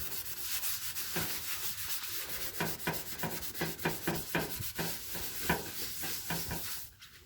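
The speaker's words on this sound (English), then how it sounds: "I stop sanding there, and I'll do that to the rest of that until all the black guide coat is gone." Rhythmic back-and-forth hand sanding strokes scrape guide coat off a Mitsubishi Pajero alloy wheel, close up, with a brief pause near the end.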